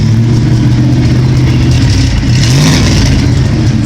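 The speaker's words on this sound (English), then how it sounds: "give it a little bit of gas to see how it does climbing in RPMs" A 1971 Ford F100 with a 302 small-block V8 and a freshly tuned carburetor revs up from idle, a loud, close, steady engine roar that climbs slightly in pitch with no talking.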